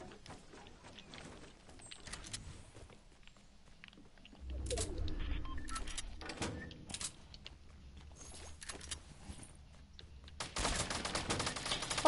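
Gunfire in the video game Fortnite: scattered shots and rapid bursts at moderate distance, growing denser toward the end, with no talking over them.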